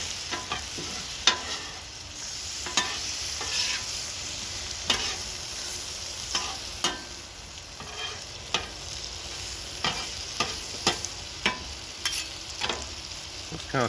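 Cheesy mushroom tortellini sizzles steadily on an outdoor griddle at night while a spatula tosses it, with sharp scraping clicks recurring irregularly over the constant close frying hiss.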